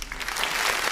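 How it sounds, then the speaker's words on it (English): A crowd applauds for a birthday at a Las Vegas pool party lounge, steady, dense clapping filling the whole short moment at close range. "We're gonna give a round of applause."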